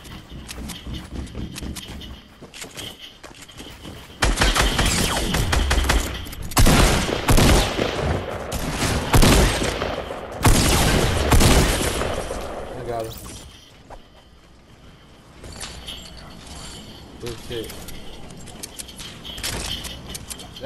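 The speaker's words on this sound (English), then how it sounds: "still shooting from a distance over there." Rapid bursts of gunfire in the Fortnite video game, loud volleys firing in close succession with pauses between, while players talk over the shooting.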